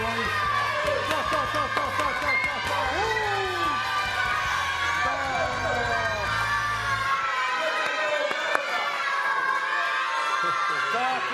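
Studio audience cheering and whooping loudly at a sports talk show as a boxer and his coach walk in, excited shouts and a rhythmic chant running throughout, with a host's voice over the crowd.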